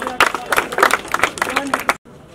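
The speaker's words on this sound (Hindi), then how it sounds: "जोरदार ताली" A crowd at a festival event claps loudly for a prize winner in a dense burst of applause, mixed with a voice, before it cuts off abruptly.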